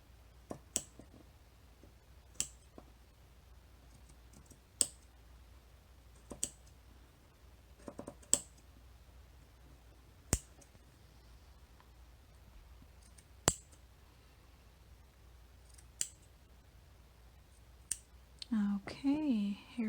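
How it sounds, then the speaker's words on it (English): Crochet yarn snipped with scissors while making boho mug rug coasters, heard as sparse sharp clicks spread over a quiet room, with a brief faint voice murmur near the end. "So I've just cut my string off, my yarn off."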